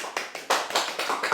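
A handful of sharp hand claps arrive in an uneven series of distinct bursts over little more than a second, close and fairly loud, with no voices.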